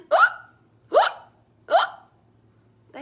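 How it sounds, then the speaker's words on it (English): A child's hiccups sound again and again, three sharp, close, loud hiccups spaced about a second apart in a steady rhythm, with a fourth just starting at the end and quiet between them. "the hiccup still kept coming and coming"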